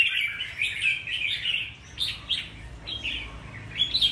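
A red-whiskered bulbul chirps nearby in repeated bright, short calls spaced irregularly over a low background hum.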